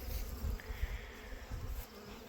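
A steady, droning insect buzz with fluctuating intensity, like bees hovering nearby, fairly faint throughout.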